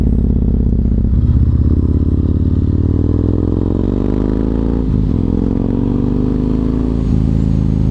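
A loud Yamaha MT-01 motorcycle engine up close, revving and climbing in pitch as it accelerates, with a couple of brief gear-change dips and some rattling.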